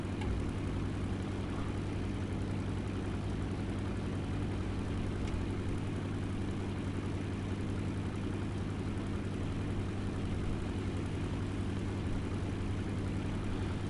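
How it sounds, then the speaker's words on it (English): A War Thunder aircraft used as a dive bomber drones continuously at an even, low, heavy engine pitch. The sound stays unchanged, with no voices, for the full fourteen seconds. "Technically, you could turn this into a dive bomber"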